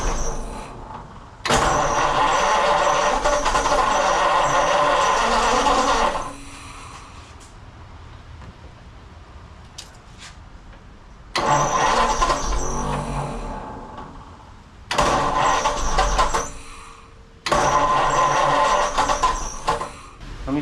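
A 1933 three-window coupe's engine cranks and catches in repeated attempts, loud close bursts of mechanical roar lasting a few seconds each, separated by quieter idle-like stretches and pauses.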